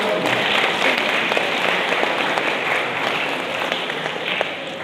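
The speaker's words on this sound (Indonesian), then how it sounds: "Kita beri aplaus untuk 2 orang ini." An audience at a teachers' farewell ceremony at MAN Insan Cendekia Padang Pariaman applauds two students, a dense, steady roar of many hands clapping that holds loud for the whole stretch.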